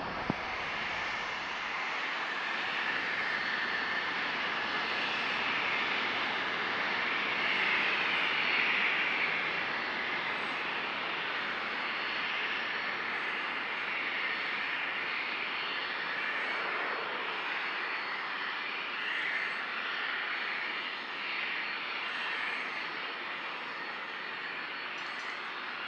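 A Southwest airliner jet roars steadily through its takeoff roll on runway 27 at San Diego International Airport, a loud, sustained engine rumble and whine that holds for nearly half a minute with no talk over it.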